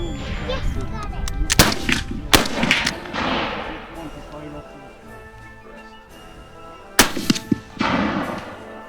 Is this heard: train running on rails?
no